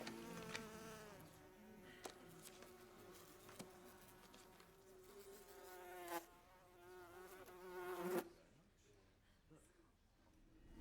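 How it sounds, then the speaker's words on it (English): Loud, continuous insect buzzing with a droning pitch that wavers. It runs under talk, swells in short bursts, then cuts off abruptly near the end, leaving quieter background. "I dare say the buzzing is frightfully loud."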